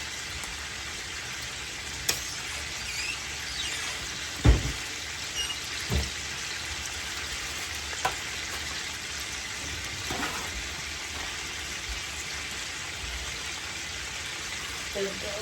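Pork chops frying in grease on a stovetop, a steady close sizzle and crackle with a few sharp pops and knocks throughout.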